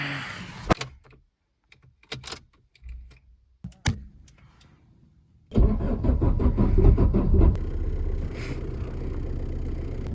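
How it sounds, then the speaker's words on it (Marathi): A car's engine cranks and catches on the second attempt in cold weather, with a few sharp clicks and thumps before a loud, steady idle rumble settles in and continues close by. "दुसरा स्टार्ट घेतलेला आहे गाडीने, पहिला नाही घेतला कारण थंडीमुळे थोडी गार पडती."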